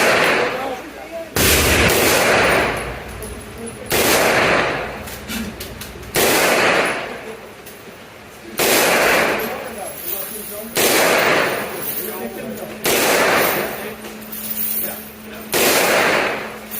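An Aero Precision EPC 9 pistol-caliber carbine fires at an outdoor range in roughly eight loud, sharp shots spaced a second or two apart, each followed by a brief echo. Someone talks between the shots.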